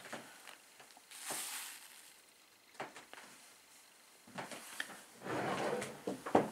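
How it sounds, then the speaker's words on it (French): A chair dragged and scraped noisily across the floor in several rough bursts, the longest toward the end, with quiet pauses in between. "Je suis désolée de faire du bruit avec la chaise."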